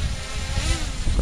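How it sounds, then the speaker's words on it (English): A GPS-equipped Untei EC20 V3 brushless foldable drone makes a steady, insect-like buzzing whine from its motors during automatic takeoff, close and continuous throughout. "we're gonna just take off. Automatic takeoff."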